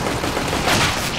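Rapid gunfire in the video game CS:GO, a dense continuous burst of shots filling the short moment, loud and close.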